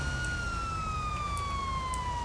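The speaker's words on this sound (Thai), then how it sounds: "ตัวไฟไซเรนรถตำรวจมันก็จะออกมาประมาณนี้เลยนะครับ" Police car siren in GTA V, a steady descending wail that rings loud and unbroken over a low rumbling game background, with no voices.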